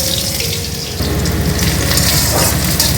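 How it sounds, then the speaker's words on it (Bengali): Onions frying in hot oil with dried chilli and nigella seeds, in a home kitchen cooking aloo chorchori: a steady, loud, watery hiss that continues unbroken throughout, with no talking. "এবার আমি পেঁয়াজটাকে একটু লাল লাল করে ভেজে নেব।"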